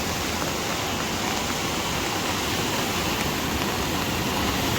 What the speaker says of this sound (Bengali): দেখো এত বড় বড় ঢেউ আসছে